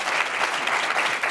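Brief, dense audience applause at a women's summit, steady crowd clapping heard alone and moderately loud.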